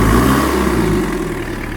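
An off-road custom van's engine running with no exhaust line fitted, open at the turbo outlet, giving a steady, loud mid-pitched drone with low rumble that eases slightly toward the end.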